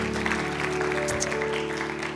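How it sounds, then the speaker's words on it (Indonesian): Congregation applause during a church sermon: steady clapping from a crowd throughout, over a sustained droning keyboard or organ chord. "boleh berikan tepuk tangan dong."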